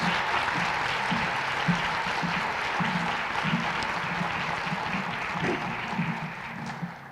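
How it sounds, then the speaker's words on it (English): Dense, steady round of applause from an audience at a teacher of the year awards ceremony, sustained evenly for about seven seconds with no voices on top. "Let's give them all a round of applause for their support of our fantastic teachers."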